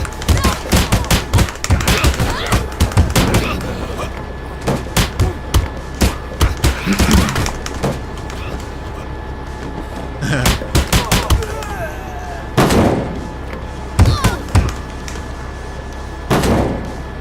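Rapid gunfire from a video game shooter, loud clustered bursts of shots in rhythmic volleys with pauses between, some heavier thuds mixed in, and a voice speaking at times.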